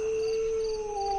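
A distant dog howls at night in one long, sustained wavering note that climbs slightly toward the end, heard over a faint background of chirping crickets.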